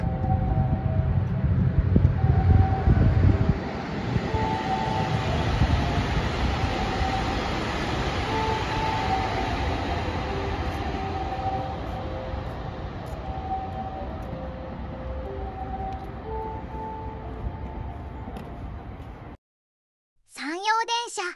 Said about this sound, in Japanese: JR 神戸線スーパー白戸元町駅通過。